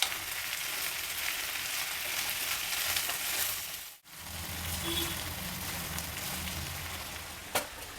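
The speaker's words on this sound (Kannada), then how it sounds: "ಈಗ ತರಕಾರಿನ ಚೆನ್ನಾಗಿ ಎಣ್ಣೆನಲ್ಲಿ ಫ್ರೈ ಮಾಡೋಣ." Mixed vegetables for Mumbai street-style hariyali pulao fry in hot oil, a steady close sizzle across the whole stretch, broken by a brief hush midway and one sharp clack near the end.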